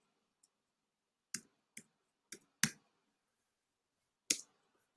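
Keyboard typing gives a handful of crisp, isolated key clicks spaced irregularly across a quiet room, each one close and distinct with silence between.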